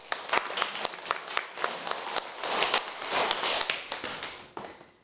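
A church congregation claps in thanks during a service, a mix of sharp individual claps and a fuller swell of applause that builds in the middle, then thins out and stops near the end.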